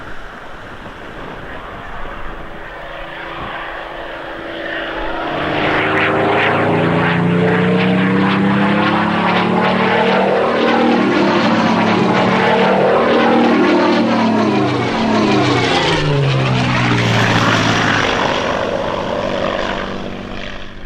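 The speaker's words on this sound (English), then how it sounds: "imagine paddling down here and a Spitfire coming under." A Spitfire propeller aircraft flies under a bridge over the River Tees, its engine roar swelling loudly from a distant drone, sweeping down in pitch as it passes close, then fading away.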